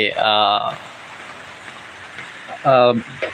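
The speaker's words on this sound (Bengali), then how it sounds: "দেখতে পাচ্ছেন টিপ টিপ করে যে বৃষ্টি পড়ছে" Light drizzle patters in a soft, continuous hiss, while someone speaks over it in short bursts at the start and near the end.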